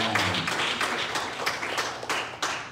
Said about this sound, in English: Will you clap your hand and give me favor?